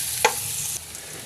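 Chopped garlic hits hot oil for a braise of leftover roasted pig: a sharp stirring clatter, then a brief bright sizzle that cuts off, close and quiet, with no talk.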